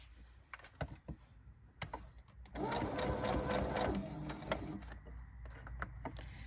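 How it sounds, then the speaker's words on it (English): Sewing machine stitching a bear paw quilt block, a close, steady mechanical whir with rapid needle ticking that starts after a few handling clicks and runs continuously under a voice talking. "then we'll sew up the other side"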